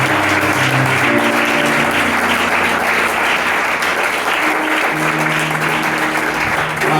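A church congregation claps loudly and continuously in a dense, sustained wave of applause, with faint voices and cheering mixed into the crowd noise throughout.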